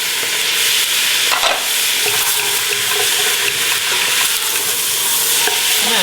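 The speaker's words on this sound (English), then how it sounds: "we're going to stir that and make sure that it's really coated with the olive oil and saute that for about 6 to 7 minutes" Carrots and celery sautéing in olive oil in a soup pot, a loud, dense sizzle running throughout while a spoon stirs and scrapes through the vegetables up close.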